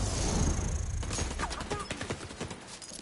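Gunfire in The Division 2 during a player-versus-player match: a loud clattering of rapid shots and bursts crowds the mix, then gives way to a denser patter of sharp, close reports.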